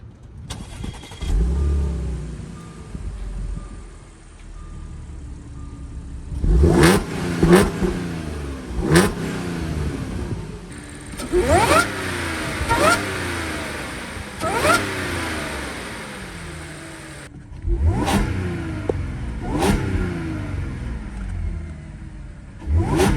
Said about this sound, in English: I'm gonna start it up, and I'm gonna give it a few engine revs